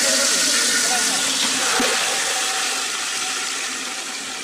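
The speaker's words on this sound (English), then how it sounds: "The pumps and motors are on." Water pumps and motors at summer storage tanks for drinking water run with a constant broad hiss and rush of water flowing into the tanks, which fades slightly toward the end, with speech faintly underneath.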